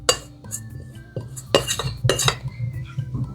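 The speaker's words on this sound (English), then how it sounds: "I know like some people don't really scrape bowls, but I do." Spoon scraping granola mixture out of a bowl, a close series of irregular metallic scrapes and clinks with short bursts of rubbing and tapping.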